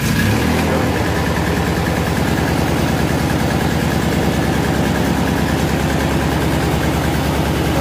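A Polaris Sportsman 700 ATV engine cranks and catches, then settles into a steady, loud, close low idle that runs throughout with a fast, even throb.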